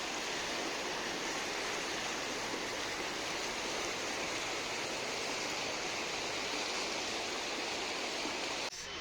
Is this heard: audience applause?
no